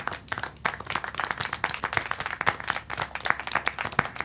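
Steady, lively clapping from a crowd in a video game, fast overlapping hand claps with a few sharper individual claps standing out, continuous throughout.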